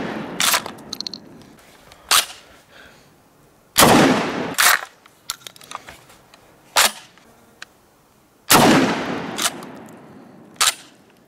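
Kel-Tec KSG 12 gauge pump shotgun firing 2 3/4 inch shells, about five loud, sharp blasts at uneven intervals, each followed by echo and the clack of the pump action, with faint voices between.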